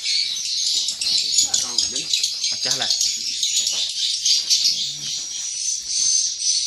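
Swiftlets call constantly inside a swiftlet house, a dense high twittering chorus with a few brief rattling bursts, while someone talks under it.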